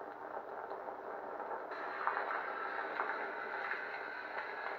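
Force freeze effect on a ProffieOS lightsaber with an ice blade, a soft, steady crackling hiss and hum that shifts slightly partway through, faint and continuous with no talking.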